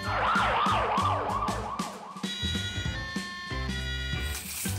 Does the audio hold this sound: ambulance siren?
yes